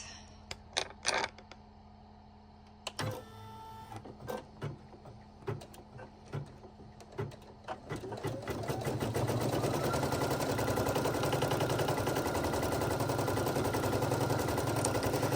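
An embroidery machine stitches a cooling sport towel, starting with scattered clicks and button taps before ramping into a loud, steady rapid mechanical chatter.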